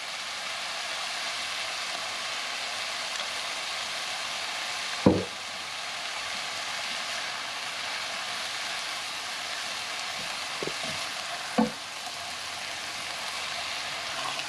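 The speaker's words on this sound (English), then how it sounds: "as the vegetables saute, they give out a little bit of liquid" Vegetables sauté in a hot pan for Hawaiian fried noodles with Spam, giving a steady, even sizzle that runs throughout, broken by a couple of brief utensil knocks against the pan.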